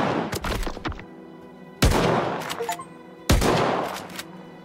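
A shotgun fires three loud, evenly spaced blasts in Stalker 2, each with a sharp crack and a rumbling tail, and scattered shots and clatter fill the gaps.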